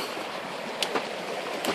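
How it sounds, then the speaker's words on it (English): Water rushes in a steady broadband wash close by outdoors, with a few brief splashy bursts rising out of the constant flow. "I'm sorry for the sound, but there's a lot of water coming here"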